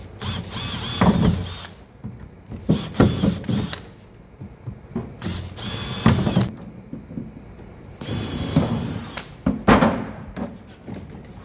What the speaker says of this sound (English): Change drill bit down to the 1/8. Get these little suckers out.